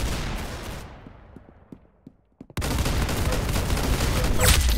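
Gunfire in a first-person shooter game, a burst of shots fading into a decaying echo, a few isolated single shots, then a sudden loud dense barrage of rapid fire.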